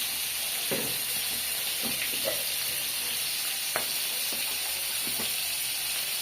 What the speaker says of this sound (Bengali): এইখানে পেঁয়াজ রসুন ভেজে নিচ্ছি